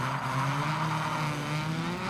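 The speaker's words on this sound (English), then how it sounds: "Hard on the brakes again." Race car braking hard in the racing game Gravel, a sustained engine drone with a shifting pitch and a steady, loud, close sound, with no voice over it.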